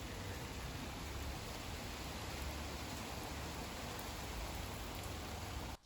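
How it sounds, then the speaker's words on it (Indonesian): Steady rain falls outdoors in a village in the Netherlands, a dense even hiss of drops that continues unbroken and fairly faint until cutting off abruptly at the end. "Hujan guys."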